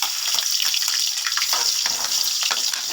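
Garlic sizzles in hot oil in a wok, giving a steady bright frying hiss with a crackling texture throughout.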